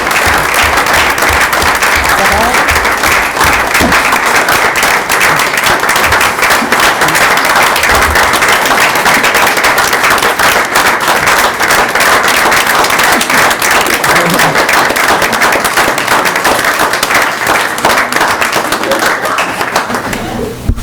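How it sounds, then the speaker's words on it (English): An audience at a school board meeting applauds award-winning students with dense, steady clapping that carries on for about twenty seconds, loud and close, with some voices mixed into the crowd. "Round of applause for all of them."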